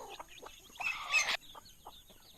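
Chickens and chicks at feeding time, soft scattered clucks and peeps with one brief louder squawking burst in the middle, close by and without talk.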